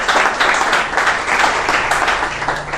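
Sustained audience applause fills a church service, dense and steady clapping from a congregation throughout, with no speech over it.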